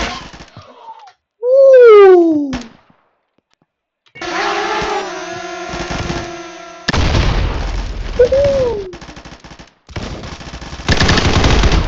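Gunfire in the shooter video game Combat Master, loud rapid automatic bursts and booming shots in several strings, mixed with whooshing game effects and tonal sweeps.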